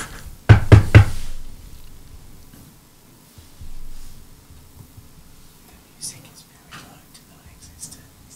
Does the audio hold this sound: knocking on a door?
yes